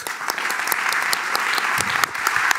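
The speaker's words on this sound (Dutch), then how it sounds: "Nog een heel groot applaus voor Gian van Gunsven." An audience applauding, dense continuous clapping from many hands, full and lively throughout.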